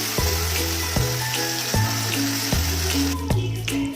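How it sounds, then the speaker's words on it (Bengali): Ginger garlic paste sizzles steadily in a hot pan, a continuous hiss running beneath louder rhythmic background music with regular bass notes. "আদা রসুনের পেস্টটা দিয়ে এবার সেটাকেও একটু ভালো মতন কষিয়ে নেব"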